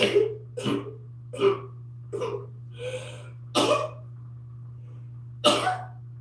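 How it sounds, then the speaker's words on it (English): A series of seven short, sharp sneezes come in irregular succession over a quiet background hum. "hang on, I'm gonna sneeze."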